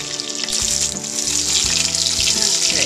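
Beef pieces browning in a hot pan for beef bourguignon give off a steady, loud sizzle and crackle that grows slightly fuller over the few seconds, with a brief spoken word near the start.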